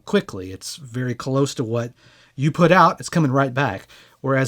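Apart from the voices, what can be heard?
No distinct noise like a dog, phone or traffic.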